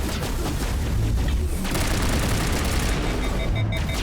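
Sustained gunfire from the Mass Effect Legendary Edition video game, a dense continuous fusillade of shots and booms running loud throughout, with bursts layered over one another.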